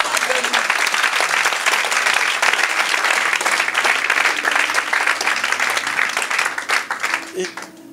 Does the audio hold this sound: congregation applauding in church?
yes